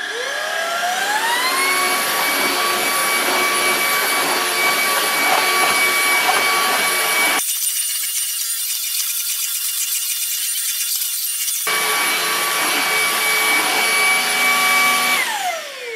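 An Ultenic U20 cordless stick vacuum cleaner runs in turbo mode, a loud close high-pitched whine that ramps up and holds steady, muffled for a few seconds midway before returning, then winding down at the end.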